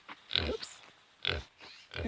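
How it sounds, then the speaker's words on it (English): Two homestead pigs grunt and oink close by in their pen, making three short snorting bursts with brief pauses between, no talk. "So here we are with the pigs"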